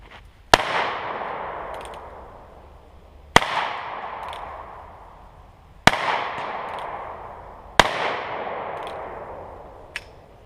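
Four loud handgun shots are fired from inside a plastic bag, with a fifth sharp crack near the end. Each lands alone with a long decaying echo.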